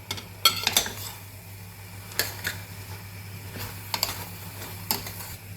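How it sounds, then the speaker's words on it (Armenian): A spoon stirs mushroom soup in a pot as grated carrot goes in, with scattered metallic clinks and scrapes over a low steady hum. "Մի լավ խառնում ենք եւ ավելացնում եմ գազարը քերած։"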